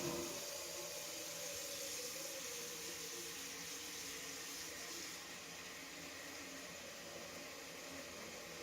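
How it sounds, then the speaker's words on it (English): Tap water pours steadily into a cooking pot as it fills for boiling potatoes, a continuous close hiss and rush with no talk, easing slightly toward the end. "I'm just filling this up with water so I can boil my potatoes."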